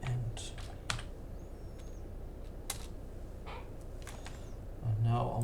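Typing on a computer keyboard while configuring router commands, a steady run of soft clicks over a constant background hum, with a couple of louder keystrokes near the start and end.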